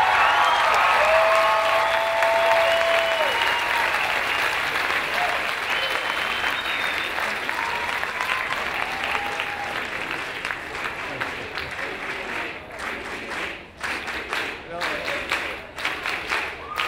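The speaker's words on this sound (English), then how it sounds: "And also a round of applause to all of the graduates of the School of Policy, Planning, and Development." Graduates of a university policy and planning school are applauded at an undergraduate commencement ceremony, with loud sustained crowd clapping, scattered cheers and whoops over it, thinning toward the end as individual claps stand out.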